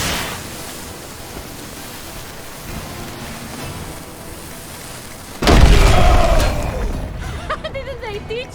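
A cannon in the video game En Garde! fires one sudden loud boom after several seconds of low ambient noise. The boom rolls on into a crackling tail while a voice speaks over it.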